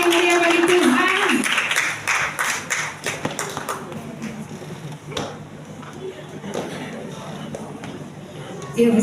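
At a Christmas celebration a congregation claps, loud and dense at first and then thinning into scattered, uneven claps and taps, with some crowd murmur that swells again at the end.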